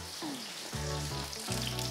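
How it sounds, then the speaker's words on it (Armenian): Peaches frying in a pan for a honey and peach dessert, a steady close sizzle with bursts of crackling that swell as pieces hit the hot surface, with no talking. "Ինչպես զգում եք, լսում եք, արդեն դեղցը այստեղ տապակվում է։"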